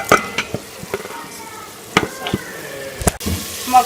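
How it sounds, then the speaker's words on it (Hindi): Goat brain being stirred and fried into spiced masala in a pan: scattered clinks and scrapes of a spoon against the pan over a low sizzle, with a louder clatter near the end. "मगज़ को जो है वो अच्छी तरह से मिक्स करके इसमें भून लेंगे"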